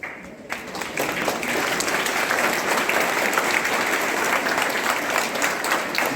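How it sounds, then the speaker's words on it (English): A school assembly audience applauds after a dance with live music, producing dense, sustained clapping from a large crowd that holds at a steady loud level. "the dance that you performed, along with the live music, needs a special applaud from all of us"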